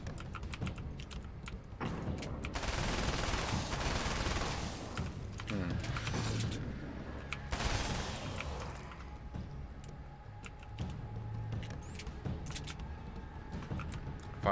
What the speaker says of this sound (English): We just gun him down with a lot of bullet